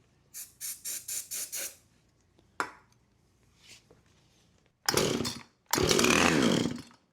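Husqvarna chainsaw being started on choke: a quick series of five pull-cord strokes, a lone pull, then two loud bursts as the engine briefly catches and sputters, close by.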